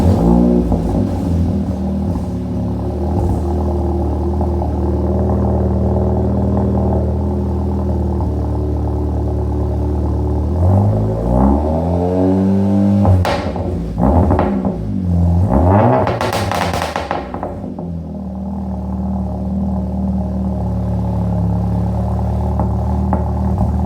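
A Volkswagen GTI with a new exhaust idling loudly up close, then revved in sharp blips that sweep up and fall back before it settles into a steady, deep idle again.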